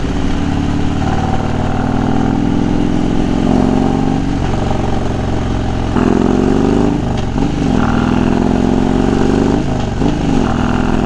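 A motorcycle engine runs steadily while riding on a road, a loud continuous drone with shifting harmonic pitch as the revs rise and fall slightly, close and unbroken throughout.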